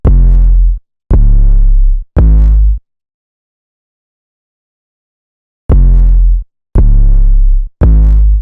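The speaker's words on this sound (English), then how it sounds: "they added a very simple 808, nothing too crazy, hitting just like 3 notes" Deep, booming 808 bass notes from an FL Studio beat play alone in short sustained hits, three in a row, then a long silence before three more.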